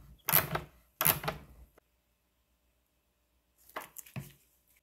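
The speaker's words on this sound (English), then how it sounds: "Thread on the nut, then tighten it up." Up close, a nut is threaded and tightened onto an intake manifold stud on a BMW E46 turbo build. A few sharp metallic clicks and ratcheting bursts are separated by a quiet pause.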